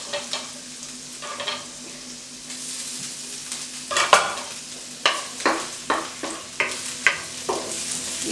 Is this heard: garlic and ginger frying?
yes